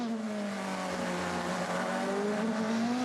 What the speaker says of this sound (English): listen to the sound, the engine note, because the Toyota we can hear